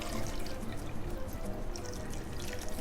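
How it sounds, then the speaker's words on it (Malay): Water poured into a blender jar over galangal, turmeric and dried chillies for a shrimp and taro curry paste, a steady close splashing and gurgling stream that carries on throughout. "Lengkuas dan kunyit. Dan masukkan air."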